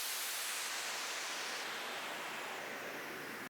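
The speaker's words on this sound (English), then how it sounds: "We've got this white noise downlifter." A white noise downlifter effect from electronic music production, a broad airy hiss that sweeps gradually downward and thins out over a few seconds before cutting off abruptly.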